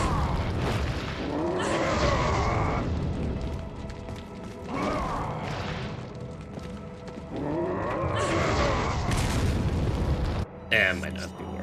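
Grenades go off in Resident Evil 4, with several loud booming explosions spaced a few seconds apart, each followed by rumbling debris. The last one lands right at the end, and game noise fills the gaps between blasts.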